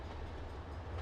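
Train running on a British Midlands route in Trainz Simulator 2, a steady low rumble of wheels and engine, faint and continuous for the brief moment.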